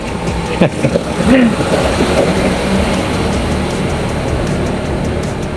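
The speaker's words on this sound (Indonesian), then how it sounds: "Sebentar dulu ya, ada yang truk lewat nih." A truck passes by outdoors, a loud steady engine rumble and road noise filling the whole stretch, with a brief voice near the start.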